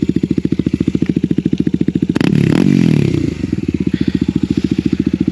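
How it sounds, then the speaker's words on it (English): Yamaha WR250R motorcycle with a GPR exhaust and no dB killer idles with a loud, rapid thumping pulse, then blips the throttle into a short, rising roar near the middle before settling back to a steady idle. "that's what the GPR exhaust sounds like."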